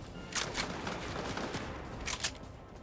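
A bot fires at the player in Fortnite, a few short, sharp bursts of gunshots popping over steady game background noise, one pair early and another pair near the end.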